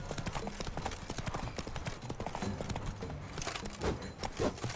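Hooves clip-clop in a quick, irregular patter during mounted combat in the video game The Witcher 3: Blood and Wine, close and fairly faint, with clanks and scuffles mixed in.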